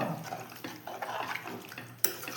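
Water is poured into a pressure cooker holding cabbage and salt for a Tamil cabbage kootu, a steady close splashing and trickling with a brief sharper splash near the end.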